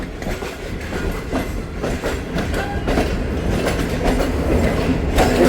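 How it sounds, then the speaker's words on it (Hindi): Shalimar Express train at Rahim Yar Khan station in Pakistan, a steady rumble of rolling coaches with clickety-clack wheel beats and occasional metallic squeals, loud and close throughout. "दोनों शालीमार एक्सप्रेस का मीटअप हुआ रहीम यार खान पर।"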